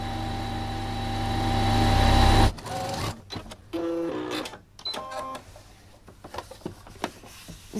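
A sewing machine stitches a bow tie seam, running in a steady loud whir for about two and a half seconds before stopping, followed by quiet handling clicks and rustles.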